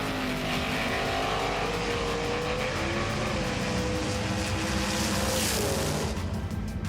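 Mitsubishi Evo race car powering through a time trial lap at Mount Western Raceway, a loud continuous engine roar with rising and shifting rev tones throughout, close and steady with no voices.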